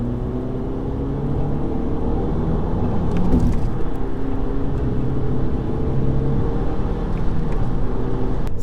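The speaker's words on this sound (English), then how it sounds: "That's a V8 BMW, that is. That's a 545." A V8 BMW 545 drives by, its engine a steady low rumble and whir that swells slightly in the middle, heard up close with no talk.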